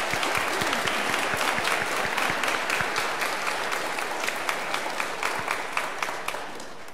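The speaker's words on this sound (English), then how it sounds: "let us greet them with a round of applause" A church congregation claps at Sunday Mass, dense, even applause filling the space and tapering gradually over several seconds, with a few sharper claps standing out near the end.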